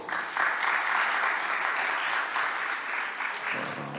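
Conference attendees at an IT forum in Almaty, Kazakhstan, give a steady round of applause, a dense even wash of many hands clapping with no talk over it.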